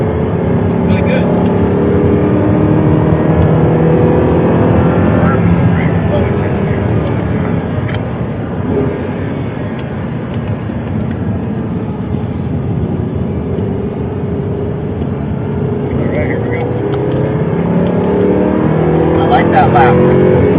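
Audi R8 engine building speed on a race track, a loud sustained drone heard from inside the car as it accelerates, with someone talking over it throughout.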